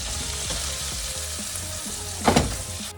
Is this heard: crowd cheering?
no